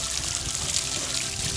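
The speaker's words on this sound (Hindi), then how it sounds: "मैंने इतनों दिनों बाद में पानी डाला" Water from a mountain source poured over the body while bathing outdoors, a steady close splashing hiss that runs without pause and with no talk.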